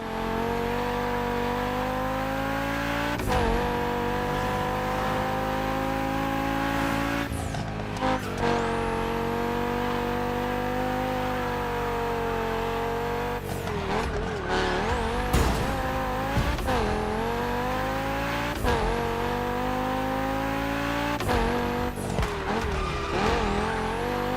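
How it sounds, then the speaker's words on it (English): A KTM 450 motorcycle rides in the video game The Crew Motorfest, its engine droning loud and continuous, with repeated rev rises and drops, sharp gear shifts and tire skids. "Has specified the KTM 450 yet again"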